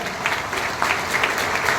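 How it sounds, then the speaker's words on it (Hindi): A seminar crowd in Ahmedabad claps in a steady, moderately loud burst of applause that lasts about two seconds, with no voices standing out. "श्री टीसी छाबड़ा के लिए एक बार जोरदार ताली चाहूंगा मैं"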